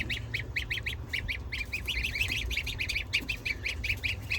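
Many goslings peep in quick high chirps, a dense overlapping chorus of young geese close by over a low steady background rumble, with no talking.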